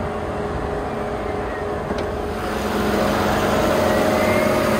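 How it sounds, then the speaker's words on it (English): Radiator cooling fan on a 2021 Chevy Camaro SS at an auto auction, a steady close whir over engine hum that grows slightly louder as it spins up. "Fan just kicked in."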